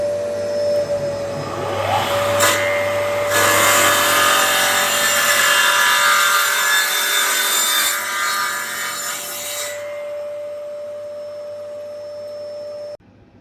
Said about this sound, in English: Just lining up the cut just to trim off the very, very edge of the sealed section at the back.